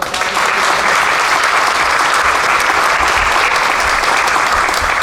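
An audience at a press conference gives a loud, dense round of applause for a sponsoring company, steady clapping held for about five seconds.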